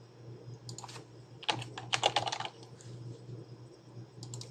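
Fingers type on a computer keyboard while entering a note in Cerner electronic health record software, with quick bursts of clicking keystrokes and short pauses between them.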